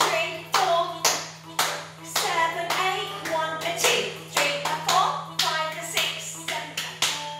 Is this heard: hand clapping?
yes